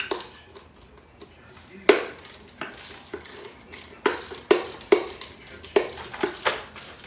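Bolts being removed from an 87 McLaren Mustang engine during a teardown give a series of sharp metallic clanks and ratcheting clicks, close and irregular, with quiet gaps between the knocks.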